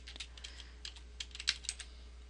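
Keys tapped on a computer keyboard while a bookmark name is entered, a short burst of quiet, close clicks with an uneven rhythm over faint steady background hum.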